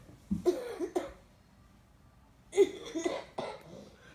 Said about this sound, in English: Are you fake coughing or are you real coughing?